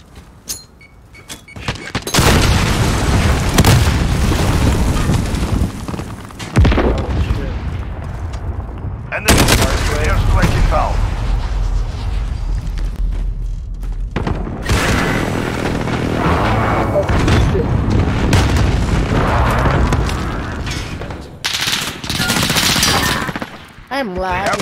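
Rapid bursts of automatic gunfire and booming explosions fill a Call of Duty Modern Warfare 2019 multiplayer match, loud and near, firing in long stretches with short lulls while players talk over the action.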